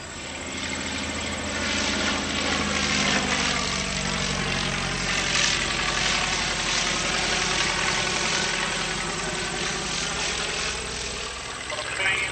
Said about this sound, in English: taxiing out of the runway, introduced in 1916, the French Spad Type 7